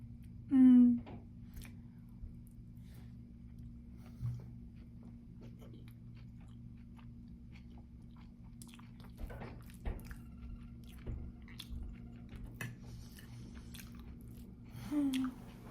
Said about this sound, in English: the video could be an ASMR video with probably you hearing me chew